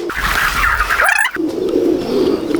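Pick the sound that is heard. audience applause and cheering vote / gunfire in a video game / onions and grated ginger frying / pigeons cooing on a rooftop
pigeons cooing on a rooftop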